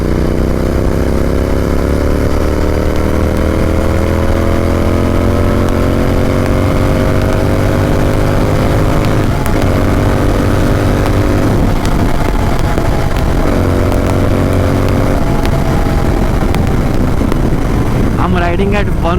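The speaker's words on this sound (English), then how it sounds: "Riding at 140, 120, 100 and with this much throttle open." An Interceptor 650 twin motorcycle rides at high speed with the throttle held open. A steady droning engine note rises and falls in pitch through the ride, with heavy wind rush over the microphone.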